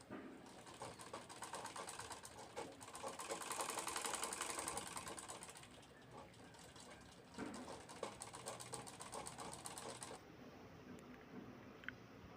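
A sewing machine runs in long steady bursts, stitching piping along the edge of a cloth chapati cover, a fairly close, continuous whirring hum with brief pauses between runs and no talking.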